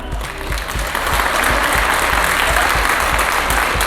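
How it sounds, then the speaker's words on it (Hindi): An audience at a co-working space presentation breaks into loud, sustained applause, dense hand clapping that holds steady and strong throughout. "आपने तालियों के लिए लिया, उसके लिए थैंक यू"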